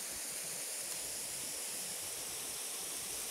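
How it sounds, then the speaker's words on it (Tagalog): Kawa Falls waterfall in Antipolo, a steady broadband rush of falling water heard from a distance, even and unbroken throughout with no voices. "Ayun yung falls oh."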